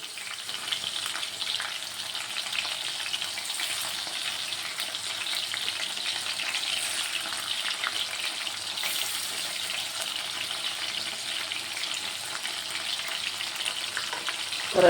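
Mushrooms frying in coconut oil in a pan give a steady, dense sizzle that runs unbroken throughout, close and fairly loud, with no voices over it.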